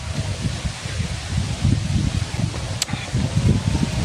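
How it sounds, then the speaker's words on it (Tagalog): Wind blows outdoors in steady, gusty rumbling buffets against the microphone, with a faint rustle throughout and one brief sharp tick near the end. "Mahangin. Libre ang aircon dito, napaka-fresh."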